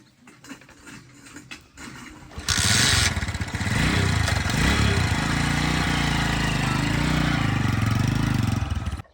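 A motorcycle clatters to life after a few faint knocks, then its engine runs loud and steady as the bike carries riders out to a farm.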